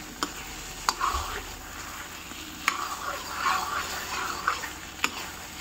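Milk and grated carrot halwa is stirred and dried over a high flame, a steady sizzle broken by regular spoon scrapes and sharp clicks against the pan.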